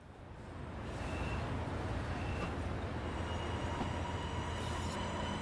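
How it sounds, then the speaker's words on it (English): Long Island Rail Road commuter train in the Train Sim World video game rolling slowly through snow, a steady dense rumble of wheels and traction noise with faint high whines, continuous and close throughout. "This is a big train."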